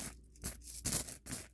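Loose change, mostly pennies, jingling and clinking inside a bag in a few short rattling bursts, close up with no voices.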